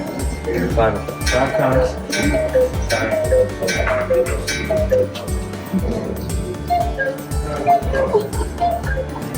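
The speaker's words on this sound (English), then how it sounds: "a first-hand demonstration of the authentic Black Forest cuckoo clock" An authentic Black Forest cuckoo clock in a traditional workshop ticks in a steady rhythm beneath other sounds, with possible voices in the background.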